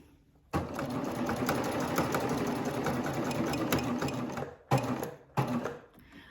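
A serger sewing machine with its knife turned off runs steadily, stitching over an already sewn seam for about an inch, then stops with a couple of brief final bursts; close and alone, no talk.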